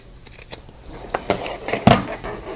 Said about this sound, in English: now I'm just going to cut out the part that I just drew, the rounded edge